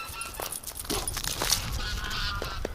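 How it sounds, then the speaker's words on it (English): Geese honking in alarm, a quick run of harsh overlapping calls close by, with a little background voice. "I heard the geese lose it"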